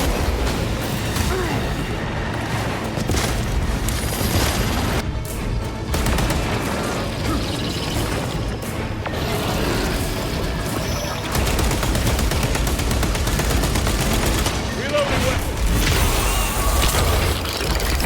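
Sustained heavy gunfire and booming blasts in Warhammer 40k: Space Marine 2 as a squad concentrates fire on the Neurothrope, dense and continuous with explosions layered throughout, voices faintly mixed in.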